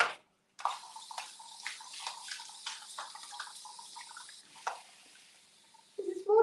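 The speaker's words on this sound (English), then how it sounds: "This is water." Tap water runs steadily into a kitchen sink for several seconds, splashing and trickling up close, then cuts off before a brief clatter near the end.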